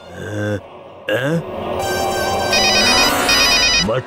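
An electronic phone ringtone plays in loud bursts, with harmonic tones and a bright repeating melody layered over busy background sound.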